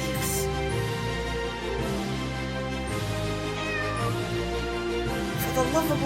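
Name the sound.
cat meowing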